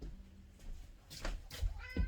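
A cat meows a couple of times nearby, short moderately loud calls standing out over a quiet room with some low handling noise.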